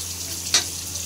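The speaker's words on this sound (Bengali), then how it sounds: "এই তো মাছ ভাজাটা বসাই দিচ্ছি" Fish frying in a pan, a brief steady sizzle hiss over a low hum with a single sharp click midway.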